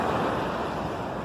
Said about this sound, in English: Just listening to the waves, the sound of the waves